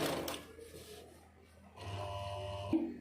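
A sewing machine stitches right along the edge of a fabric piece, a soft mechanical whir that eases off midway, then runs again in a steady close burst.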